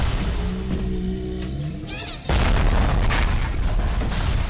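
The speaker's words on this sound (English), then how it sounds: "now I am attempting to bounce grenades at the Rosie." Grenades explode against a Rosie enemy in the video game BioShock, with a deep, heavy boom bursting in after a brief moment of quieter in-game sound, then lingering as a loud, rumbling wash.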